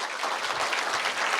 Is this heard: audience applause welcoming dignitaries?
yes